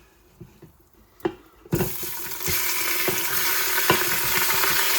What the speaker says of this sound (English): Let's put all of our thighs in.